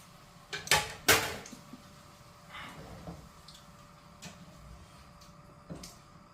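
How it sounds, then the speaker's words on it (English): Chicken adobo being stirred in a pot: two sharp metallic scrapes and clinks close up near the start, then a few fainter, scattered taps and knocks. "Then we stir"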